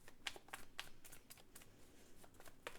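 Tarot cards are drawn and handled in a series of soft, quick flicks and slides, close but faint, spaced irregularly against a quiet room.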